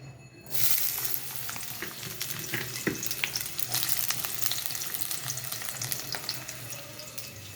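Onion and eggplant hit a hot wok and break into a close sizzle about half a second in. The crackling frying keeps going steadily, with occasional sharp clinks of utensils and no talking.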